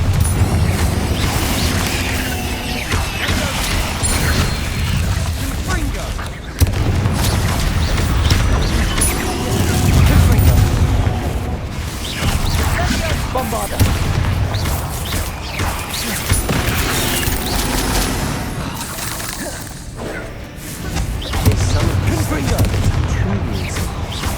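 Bombarda and Confringo spell blasts in Hogwarts Legacy, heard as a run of loud booms and crashing impacts amid mechanical clatter, with a voice speaking over the combat.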